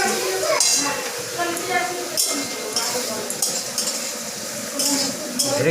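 Vegetables and rice are stir-fried without oil, a metal spatula clinking and scraping repeatedly against the pan over a faint sizzle.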